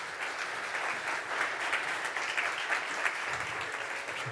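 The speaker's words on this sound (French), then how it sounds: "On peut les applaudir, ça leur fera plaisir." Conference audience claps for panel guests arriving on stage at a data and AI event, an even, sustained round of applause heard alone at moderate distance.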